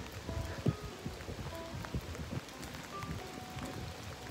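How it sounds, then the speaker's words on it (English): Rain patters steadily on a wet window at a craft beer restaurant in Akita, Japan, a close, dense crackle of drops with a few louder taps, with no voices. "Now the rain, the window was all wet, but look at the view."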